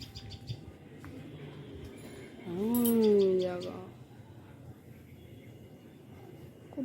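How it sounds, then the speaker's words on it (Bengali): A tailorbird on a house rooftop gives a short run of sharp, repeated chirps that rise and fall over about a second and a half, moderately close, above faint outdoor background. "ওই দেখো উঠে এসছে টুনটুনি একটা, তুত তুত করে উঠছে।"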